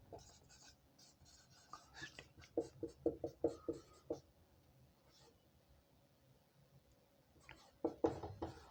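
Pen scratching on paper while a question is handwritten for a biology lesson, soft close strokes in irregular bursts, quiet overall, with faint voice sounds between them.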